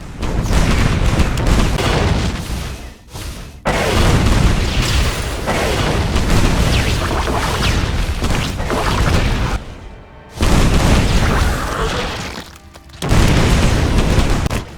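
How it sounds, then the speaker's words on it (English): Heavy weapon fire from a Thor unit in StarCraft 2 sounds as a dense run of loud booming blasts and crashing impacts, broken by a few short pauses between volleys. "The Thor is armed with 2 anti-air weapons and can switch between them depending on the situation."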